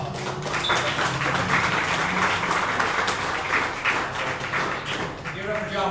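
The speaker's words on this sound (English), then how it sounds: "Give yourselves a round of applause." Audience applause at a podcast marketing talk, a dense steady wash of clapping from a crowd that fills the whole stretch at even loudness, with some voices mixed into it.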